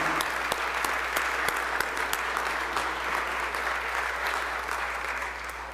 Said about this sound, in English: So let's all give them a big round of applause.